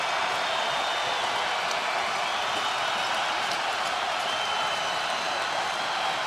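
College basketball crowd roaring at a one-point game after a three-pointer, a dense, sustained wall of cheering that holds steady, with an announcer's voice under it.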